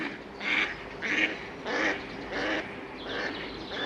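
A duck quacks repeatedly in a loose rhythm, about six nasal calls at moderate distance over a quiet outdoor background.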